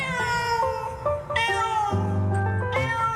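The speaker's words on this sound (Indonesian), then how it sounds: "berkenalan dengan kucing ras asli Indonesia." An Indonesian native-breed cat gives several loud, close, drawn-out meows with rising and falling pitch, heard alone.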